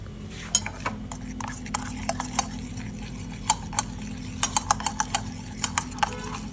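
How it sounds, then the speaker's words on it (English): A spoon stirring an espresso shot with chocolate in a cup, rapid bright clinks against the sides in irregular bursts over a low steady hum. "You brew your shot on top. You stir it."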